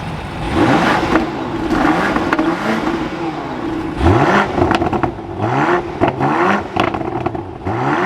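A 2024 BMW Alpina XB7 starts up and revs loudly nearby, with rising and falling engine sweeps, a throaty exhaust and some mechanical whir and clatter through the whole stretch, and no voices.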